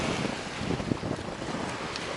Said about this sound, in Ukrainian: У морі зараз шторм біля берега.